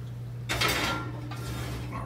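A cast iron Dutch oven set into a preheating oven for high altitude sourdough bread: a single metallic clunk and scrape up close, with a faint rattle afterward over a steady low oven hum.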